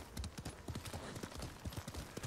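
Horse hooves clip-clop at a brisk, even trot in the Ghost of Tsushima video game, close and steady throughout.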